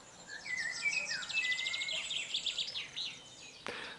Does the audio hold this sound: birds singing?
yes